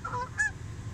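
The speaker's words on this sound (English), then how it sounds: "Get out of here, geese." Geese give two or three short, nasal honks close by, loud against a low background rumble, with no speech.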